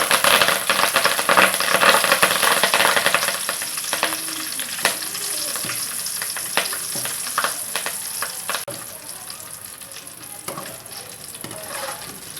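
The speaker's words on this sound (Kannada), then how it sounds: "ಇವಾಗ ಈ ಕಾದಿರೋ ಎಣ್ಣೆಗೆ ನಾನು ಸ್ವಲ್ಪ ಕರಿಬೇವಿನ ಸೊಪ್ಪನ್ನ ಹಾಕ್ತಾ ಇದ್ದೀನಿ" Curry leaves crackle and sizzle loudly as they drop into hot oil for poha chivda, a dense, steady frying hiss close by with occasional stirring clatter.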